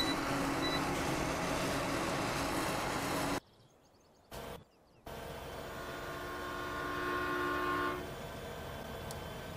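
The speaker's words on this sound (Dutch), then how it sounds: "Ja, kom net een trein aan." A train arriving in the video game Farming Simulator 2017, a broad, steady rail rumble with a tonal horn-like hum, briefly cut off before resuming and fading after a few seconds.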